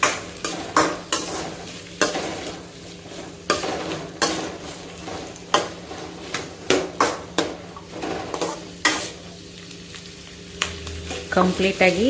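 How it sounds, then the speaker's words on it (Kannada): Food frying in a pan on low flame while making rava roti with capsicum: a soft continuous sizzle punctuated by repeated sharp scraping and stirring knocks of a utensil against the pan, with a brief spoken word. "ಲೋ ಫ್ಲೇಮಲ್ಲೇ ಫ್ರೈ ಮಾಡ್ಕೊತೀನಿ, ಇಲ್ಲ ಸೀದೋಗ್ಬಿಡುತ್ತೆ"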